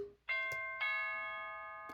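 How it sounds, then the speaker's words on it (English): A two-tone ding-dong doorbell chime from a children's button sound book, with two clear, ringing tones that decay slowly, faint and close, with a small click before each. "There's the postman ringing the doorbell. Ding dong, is anyone home?"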